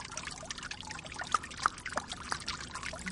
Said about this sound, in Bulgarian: ще се отпусне от релаксиращите звуци на капеща вода